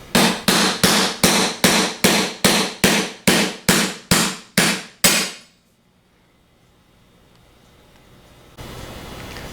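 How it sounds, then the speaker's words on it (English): A 3/4 socket is struck repeatedly to tap a bearing out of a Denso internal fan plate, about twelve sharp, evenly spaced metallic hammer blows, followed by near silence and a faint background hum. "Flip the plate upside down and tap the bearing out with a 3/4 socket."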